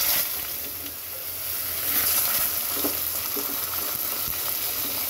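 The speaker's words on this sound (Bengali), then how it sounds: "যখন তেজপাতা আর জিরাটা হালকা ভাজা হয়ে যাবে, ঠিক ওই সময়ে আমি দিয়ে দেব কেটে রাখা বেগুন" Cut eggplant sizzles in hot oil with bay leaf and cumin, a steady, close crackling hiss with small popping bursts and no talk, while cooking for a spicy pabda fish dish with potato and eggplant.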